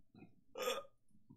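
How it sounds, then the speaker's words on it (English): A single drawn-out burp rises out of quiet low room noise during a Yu-Gi-Oh card game session, loud and close for under half a second before fading back to a soft hum. "Uh-oh, the burps have begun in earnest."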